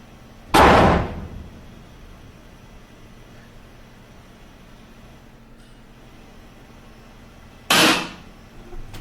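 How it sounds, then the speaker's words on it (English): A door slams hard twice, each a sharp broadband bang followed by a brief decay, about seven seconds apart, over a quiet steady room hum. "But then a door slam happens."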